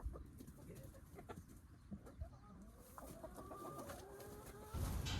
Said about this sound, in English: You gotta love chickens. They make the best soil and give you eggs.